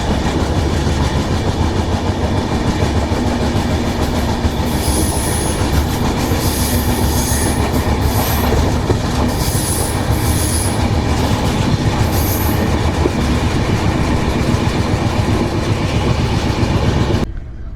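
Onboard the Prashanti Express, a constant loud rumble of wheels and carriages fills the space as the train takes a left curve, with intermittent high wheel squeals cutting in over the steady roar.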